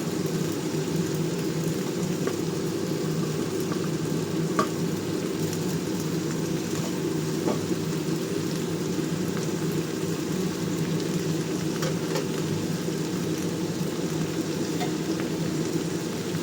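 Cut ridge gourd pieces sizzling in a pan of hot oil, a steady, even hiss with faint crackles throughout, close and moderately loud.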